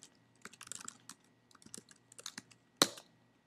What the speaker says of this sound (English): type in the name of the file.